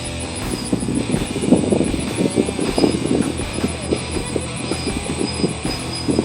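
An RCG Dronefly Phantom quadcopter on its first flight gives off a steady, high, whining rotor buzz with a constant throbbing drone beneath. It sounds fairly close and continuous, and no one speaks over it.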